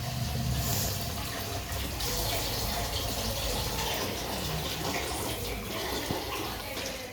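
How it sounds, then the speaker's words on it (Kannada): Water poured steadily into a cooking pot of egg sambar after the paste goes in, a continuous splashing wash running for the whole stretch with no talk over it. "ನಿಮಗೆ ಎಷ್ಟು ಬೇಕೋ ಅಷ್ಟು ನೀರು ಹಾಕ್ಕೊಳ್ಳಿ"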